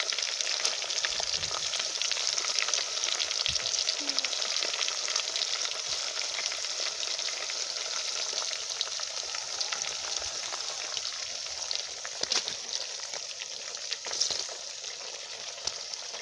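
Plantain frying in a pan of hot oil in a village kitchen, a steady dense sizzle with faint crackles and occasional stirring scrapes, close and continuous with no talk.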